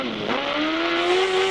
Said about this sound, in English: Listen to the gear changes.